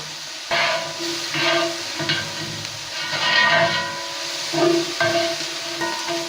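Bell pepper and garlic sizzle in a hot iron pot, giving a hissing, steamy crackle that swells and eases in uneven bursts, close and moderately loud with no talking.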